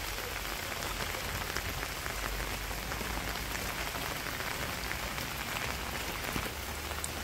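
Light rain patters steadily on surfaces in a village, a soft, even hiss of drops with no talking.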